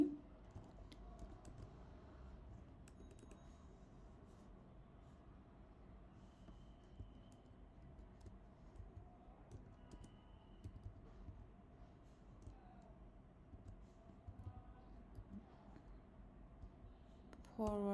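Quiet, steady typing of Swift code on a computer keyboard continues throughout, soft close keystrokes in a rapid irregular patter over a faint background hum.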